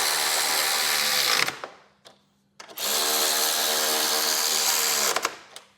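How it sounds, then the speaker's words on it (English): A battery-powered ratchet with a 13 mm socket whirs in two long loud bursts, tightening gas tank bolts on a 2015-2021 Harley-Davidson CVO Road Glide, with clicks and a short pause between runs. "going to take my 13 on my battery ratchet and go ahead and tighten this one in"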